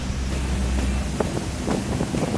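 Steady broadband rush of wind and blown water spray near Curug Sewu waterfall in Kendal, with low rumbling buffets across the microphone and a few brief splashy bursts, no talk.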